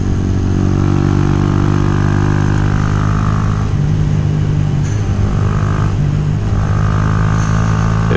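Honda Grom motorcycle cruising along a tree-lined gorge road near Utica, New York, its small engine droning steadily and loudly throughout with a few slight shifts in pitch, blended with constant wind rush.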